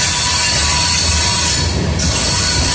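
A loud, sustained high-pitched squeal of train wheels grinding on rails over a steady low rumble, filling the whole stretch.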